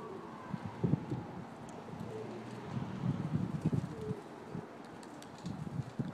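Soft, low cooing of pigeons in a coop, several birds overlapping in repeated throaty phrases, with faint chirps and rustling in the background.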